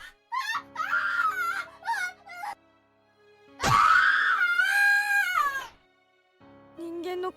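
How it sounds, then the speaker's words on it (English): A boy screams in terror in the horror video game Corpse Party, with a loud, high, wavering wail after several shorter strained cries, in an otherwise quiet scene. "Never heard screaming like this before."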